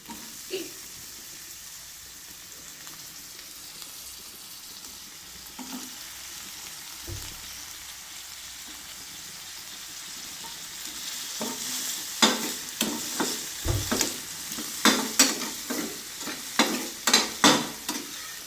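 Capsicum fries in a pan under a steady sizzle that grows louder, then a quick run of rhythmic scraping stirs and clanks fills the second half; no voice is heard.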